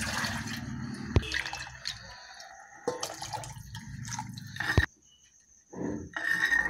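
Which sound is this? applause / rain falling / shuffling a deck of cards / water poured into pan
water poured into pan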